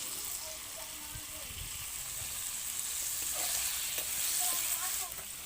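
Food fries slowly over a low wood fire in a clay village stove, a soft, even sizzle with occasional light stirring taps, fairly quiet and close, while a person talks over it.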